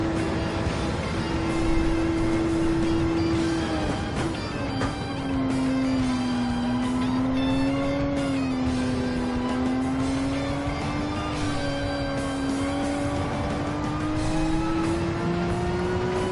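A race car engine in a racing video game, heard from a no-hood view, holds a steady loud drone throughout, its pitch dropping briefly then climbing slowly as the car accelerates through the gears.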